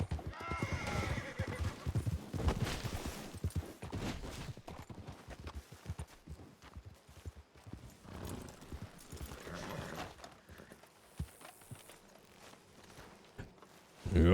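Horse acting up in Red Dead Redemption 2, with repeated neighs and whinnies over irregular hoof clops and footsteps, close and fairly loud, while a person talks in places.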